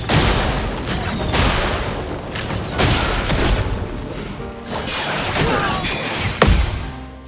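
In the video game Clair Obscur: Expedition 33, a run of heavy booming impacts from a sack attack explosion bursts out loud and dense, with repeated crashing hits and a final sharp blast near the end.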